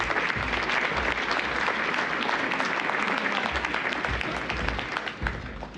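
An audience at a conference's closing session claps steadily, a dense, even round of applause welcoming a speaker to the stage, fading slightly at the end.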